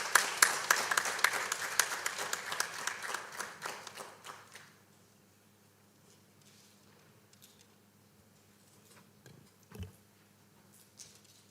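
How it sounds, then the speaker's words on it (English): Applause from an audience at a summit of African chief justices, a brisk burst of clapping that thins and fades out within a few seconds, leaving a quiet room with faint stray sounds. "A round of applause, please."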